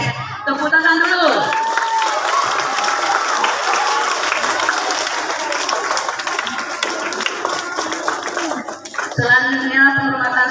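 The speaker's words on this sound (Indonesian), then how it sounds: "Tepuk tangan dulu" Students at a school assembly on an outdoor field in Aceh break into loud, sustained applause with scattered cheers for about nine seconds, framed by a speaker's voice over a PA at the start and end.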